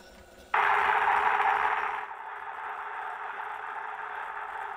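A phonograph plays a 1905 wax cylinder recording, giving a steady, loud broadband hiss and surface noise with no voice or music, which drops slightly in level partway through and continues unchanged.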